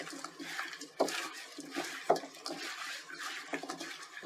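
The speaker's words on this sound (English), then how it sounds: "Then I'm gonna just go in here with my hands and mix it up" Hands toss roasted-potato chunks and kale with olive oil and chili oil in a bowl, giving soft wet squelches and light clinks against the bowl, faint and close, with two sharper knocks.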